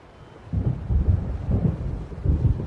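Low rumbling thunder from an approaching storm in the video game Alan Wake, rolling in several swells after a quiet start, heavy and deep throughout.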